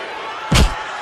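A wrestler crashes onto the ring mat in a single loud, brief thud during a WWE match, Roman Reigns versus John Cena, set against a steady roar from the arena crowd.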